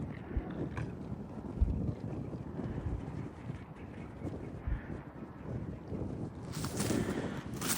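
Gusty wind buffets the microphone in low rumbling waves, swelling louder and hissier near the end, with no talking.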